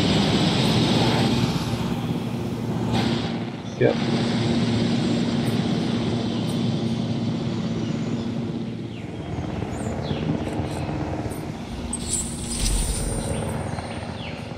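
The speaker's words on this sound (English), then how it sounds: "Where's the helicopter?" A helicopter in the Jurassic Park Evolution video game drones steadily throughout, a continuous rotor and engine hum, while a voice briefly speaks over it.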